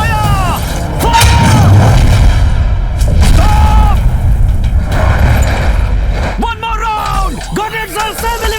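An artillery gun fires in a dubbed war action film, giving heavy booms amid a rumbling battle bed, with shouted commands and whining mechanical sweeps around the blasts.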